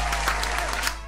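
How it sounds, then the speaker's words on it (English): Brief burst of audience clapping, a dense, steady wash of hand claps heard at moderate loudness under a low constant hum, lasting only about a second. "Everybody clap it up for Cole."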